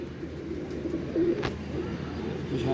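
A zeera pigeon just caught in a net coos softly a few times, close by, over low background noise.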